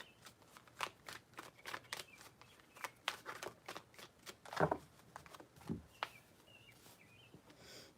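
Tarot cards riffle and slap in a quiet room, a run of soft, crisp flicks and taps with a couple of louder thumps, close and fairly faint, with no talk over them.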